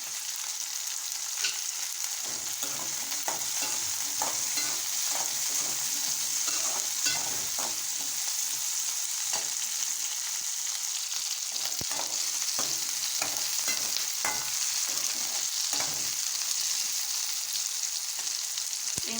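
Fennel seeds and sliced onions sautéing in a clay pot for a bitter gourd curry: a bright, continuous sizzle close by, broken by repeated scraping and clacking stirs, no voices.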